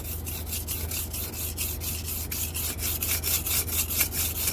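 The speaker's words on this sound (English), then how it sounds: "we're going to be starting on the coarsest grit, which are these sandstones" A dull knife is drawn repeatedly across a coarse natural sandstone whetstone, giving a rhythmic series of gritty scraping strokes, close up and steady, over a low background hum with no talking.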